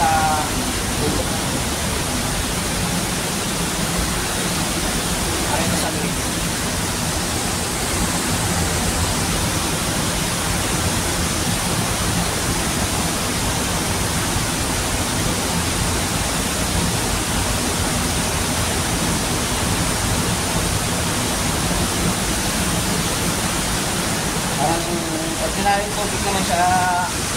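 Mountain water rushing steadily in a rocky tunnel area of Montalban, Rizal, a loud continuous broadband roar throughout, with someone speaking briefly over it.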